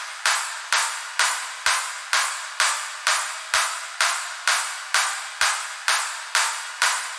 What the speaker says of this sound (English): Next, add drop claps.